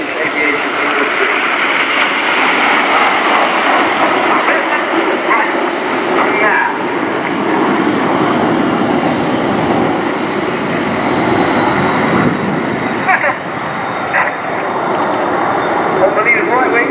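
RAF Red Arrows jets flying past alongside an Avro Vulcan bomber at an air display, a loud, sustained broad roar of jet engines throughout, with an announcer talking over it.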